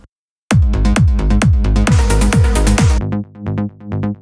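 A Serum mid bass plays loud, punchy plucked notes in a steady pulse. A brighter, buzzier layer swells in the middle and cuts off, and softer notes follow at the end. The bass plays alone, with no talking.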